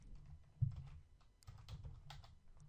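Soft keystrokes on a computer keyboard as an error message is typed, irregular bursts of quiet clicks with short pauses, close and faint.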